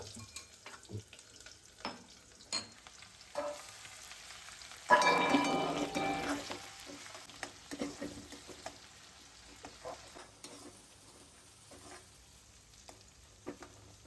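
Quiet clinks and taps, then a sudden burst of sizzling as onions hit hot oil with cumin and mustard seeds, fading into a gentle crackle with scattered knocks.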